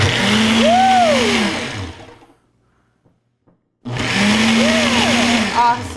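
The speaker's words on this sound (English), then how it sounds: "We're going to put it on the blender" Ninja Smart Screen Blender DUO vacuum blender running a smoothie blend: a loud motor whine that rises and sweeps in pitch, cuts out for about two seconds of near silence, then starts again close and strong.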